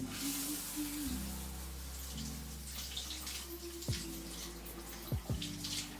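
A shower runs in a bathroom, a continuous rush of falling water with a low steady hum beneath and a few sharp clicks toward the end; no one speaks.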